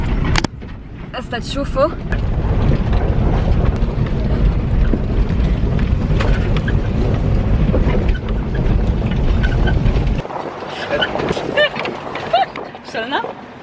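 A car rolls along a bumpy, dry, slippery dirt road in the vineyard country of Kherbet Qanafar, West Bekaa, its steady low rumble lasting about ten seconds before easing off. People chat in Arabic and English over the noise.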